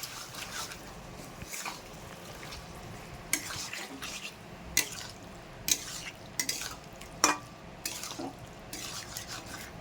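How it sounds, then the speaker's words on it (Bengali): Bombay duck (loitta) fish pieces go into a pan of frying spiced masala for a fish jhal, giving a steady low sizzle with intermittent sharp scrapes and clinks of a spatula stirring against the pot. "এবার কেটে রাখা লোটে মাছগুলো দিয়ে দেবো"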